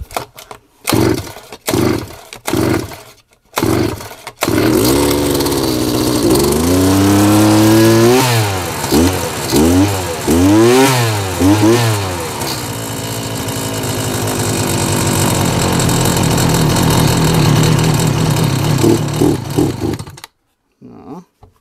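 An old pile-driver auger engine, left standing unused for three years, coughs through several short cranking bursts, then catches and revs loudly, its pitch surging up and down before settling into a rough, uneven idle that cuts out at the end.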